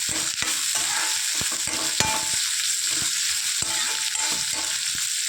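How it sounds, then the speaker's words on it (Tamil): Onions sautéing in a pan for chana dal chutney, a constant close sizzle broken by repeated sharp scrapes and taps of a spatula stirring. "போட்டு வெங்காயம் கொஞ்சம் வதங்கணும்."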